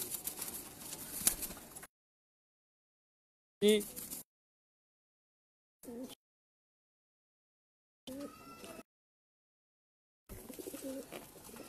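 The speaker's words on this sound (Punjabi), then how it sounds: "ਇਹ ਅਸਲ ਕਬੂਤਰ ਹੈ ਜੀ ਵੱਡਾ ਹੈ ਸ਼ਰਮੀਲਾ" A large, shy purebred pigeon coos in several short bursts separated by stretches of silence, close and fairly clear, with a brief voice speaking once.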